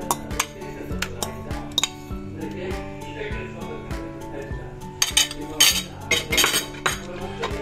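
Mashed banana stirred into aval sakkarai pongal in a metal pot, with repeated bright clinks of a spoon against the vessel in an uneven rhythm, under steady talk.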